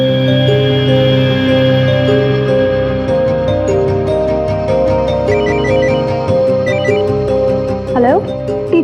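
A phone ringtone sounds as a call is placed to a teacher, a repeating electronic melody heard close and clear, with people talking over it.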